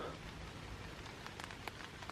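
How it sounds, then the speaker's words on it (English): Rain patters on a tent pitched for bicycle stealth camping, a continuous soft hiss broken by scattered sharper drips that land close by, with no talking. "the rain doesn't sound anywhere near as heavy where we are right now"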